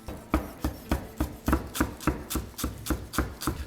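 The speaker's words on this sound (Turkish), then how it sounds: "Maydanozu doğrarken fark etmişsinizdir." A knife chops parsley rapidly on a cutting board, about a dozen crisp, evenly spaced strikes in a steady rhythm, close and clear.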